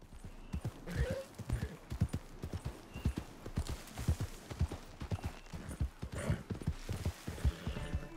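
Horse hooves gallop in Red Dead Redemption 2, a fast, rhythmic clatter of close, loud hoofbeats running throughout, with a faint whinny-like tone and no talking.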